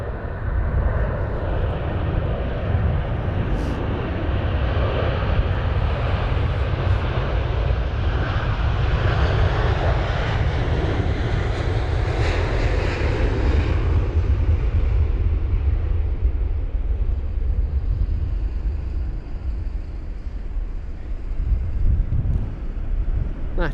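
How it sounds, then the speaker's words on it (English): A British Airways Boeing 777-200 takes off at London Heathrow during Storm Kathleen, its loud jet engine roar swelling and sweeping past over about twenty seconds, with gusting wind buffeting the microphone throughout. "That's the 777-200 of British Airways off to Doha"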